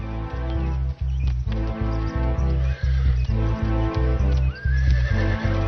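Horse stallions neigh repeatedly in a loud close fight, shrill whinnies rising over dense trampling, thumping hoofbeats and heavy scuffling throughout.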